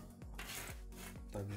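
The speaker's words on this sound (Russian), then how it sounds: "Вот эти контакты ластиком очищаем." An eraser rubbing back and forth across the electrical contacts of a Nintendo Game Boy, giving close, steady rasping strokes in a repeated rhythm with no talk over it.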